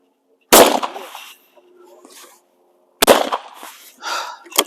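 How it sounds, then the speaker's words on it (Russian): A shotgun shot fired at a hare target on a clay shooting range: one sharp, loud blast with a short decay, then quiet rustling and faint talk, followed by a second loud burst and more activity. "Вот, я выстрелил, ребята, по зайцу."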